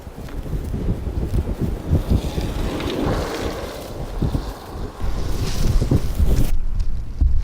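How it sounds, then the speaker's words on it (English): Strong wind roars and buffets across an open farm beside a hay bale, a steady loud rumble of gusts hitting the microphone throughout with no one speaking. "So the wind's not calming down."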